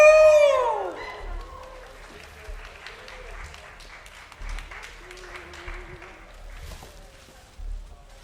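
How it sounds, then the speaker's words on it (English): Applause and scattered cheering come from an audience at a live comedy show, loud at first and then tapering into lighter clapping, with a host talking over part of it. "You're clapping that much now."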